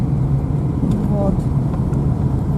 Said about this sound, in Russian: Ну, вот мы и поехали.